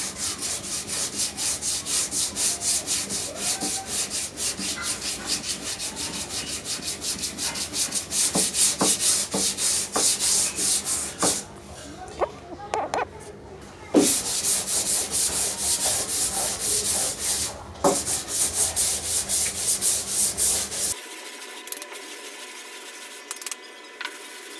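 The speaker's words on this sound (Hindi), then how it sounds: "सबसे पहले इसको रगड़ना पड़ेगा, सबसे पहले इसकी पुरानी पॉलिश को रिमूव करना पड़ेगा, सरफेस को बिल्कुल स्मूथ बनाना पड़ेगा" Sandpaper rubs old polish off a piece of wooden furniture in steady back-and-forth strokes, close and continuous, with a few short pauses. No one speaks, and the scraping thins out near the end.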